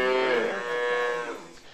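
A single long, loud moo from cattle in a cow shed on a farm in Yatta, a sustained tonal call close by that tapers off at the end.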